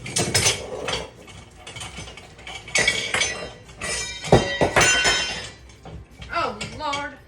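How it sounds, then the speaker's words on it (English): Metal kitchen utensils clatter and clink in rapid irregular bursts as someone rummages through a crowded drawer for a whisk while making cornbread, loud and close. "Let me get my whisk."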